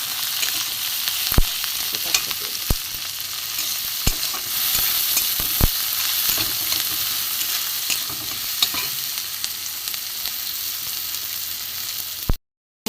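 Salted onions frying in a pan for a fish filling give a constant close sizzle, broken by scattered sharp clicks and scrapes of stirring, with no voices.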